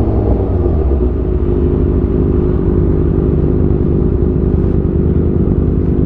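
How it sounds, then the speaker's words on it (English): A cruiser motorcycle engine running loud and close, a deep steady rumbling idle with a slight rev toward the end and no voices over it. "this guy thinks for some reason that his bike sounds better than mine"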